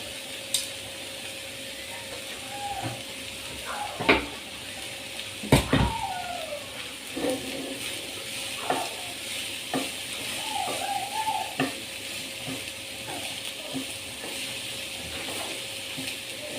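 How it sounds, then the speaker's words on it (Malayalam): Thinly sliced okra sizzles in a hot pan and is stirred with a utensil, so a continuous frying hiss is broken by sharp scraping and clinking strokes at irregular intervals, up close, with no talking. "നമ്മൾ കട്ട് ചെയ്ത് വെച്ചേക്കുന്ന വെണ്ടയ്ക്ക് മുഴുവനായി ഇതിലേക്ക് നമുക്ക് ചേർത്ത് കൊടുക്കാം"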